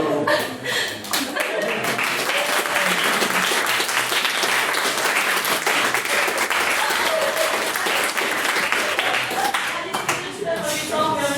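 Applause from a debate audience after a speech, loud sustained clapping from a full room lasting around ten seconds, with scattered chuckles and some voices mixed in.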